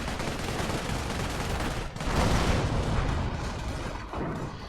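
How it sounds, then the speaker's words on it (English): A grenade explodes in a strategy video game amid dense, continuous battle noise: a loud, close roar of gunfire and blasts that swells after a brief dip, with no talking. "that's a heck of a grenade"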